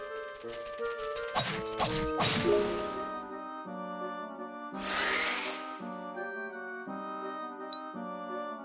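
Smashing melee attacks in the action role-playing game Xanadu Next land as a couple of loud crashing impacts over sustained game music, followed by a swooshing burst.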